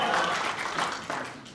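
Snooker crowd applauding Mark Selby at the World Championship: a short, dense burst of clapping from a large indoor audience, fading slightly and then swelling again toward the end.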